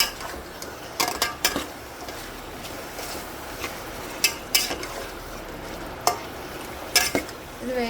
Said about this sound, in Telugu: పసుపు యాడ్ చేస్తాను బాగా కలిపేసుకోవాలి